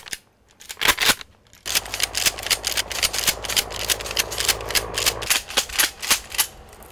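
Several gunshots ring out during an attack on a convoy: a couple of sharp isolated cracks, then a dense burst of rapid overlapping shots for a few seconds, ending in more scattered loud reports, close and without talk.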